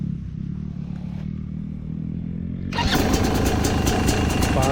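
A 2025 Fantic XE300 dirt bike fires up partway through, a quiet low rumble giving way to a loud, crackling two-stroke engine running steadily up close.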